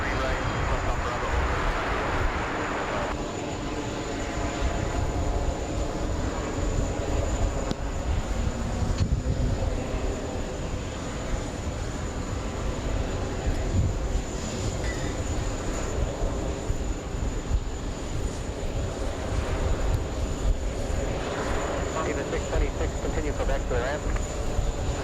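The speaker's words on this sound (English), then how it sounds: "We have an American Airlines 777." An American Airlines Boeing 777 arriving at JFK from Athens drones at moderate distance, a steady engine rumble with a faint tonal whine, while people talk over it.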